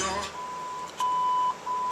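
Radio in a 1967 Chevy Nova emitting thin, steady electronic beeps, a few short tones separated by brief gaps, fairly close and clear over faint background noise.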